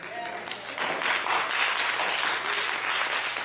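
A church congregation at a Black History sermon breaks into applause for an artist, the clapping swelling in after a brief pause and holding steady under a speaking voice.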